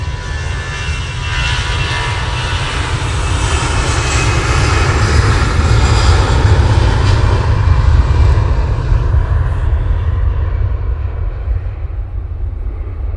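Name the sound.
EasyJet airliner on its takeoff roll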